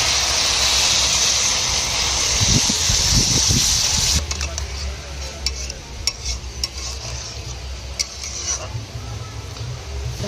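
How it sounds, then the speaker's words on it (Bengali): Water is poured into vegetables frying in a pan for a tilapia fish dish, a loud bright sizzle and gush for about four seconds that drops to a softer bubbling simmer with faint clinks. "পরিমাণ মতন জল দিয়ে দেবো।"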